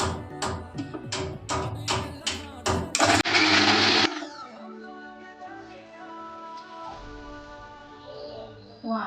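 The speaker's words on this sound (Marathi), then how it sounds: "चला आता आपण ऊसाचे तुकडे बारीक करून घेऊ।" A mixer grinder chops sugarcane pieces at close range in a series of short, sharp pulsed bursts, then runs continuously for a second before cutting out, leaving a faint tonal hum.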